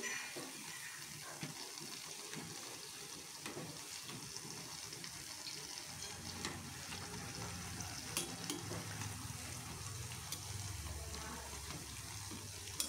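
Balushahi frying in hot oil, a continuous soft bubbling sizzle held at an even level throughout, fairly faint and steady with no voices.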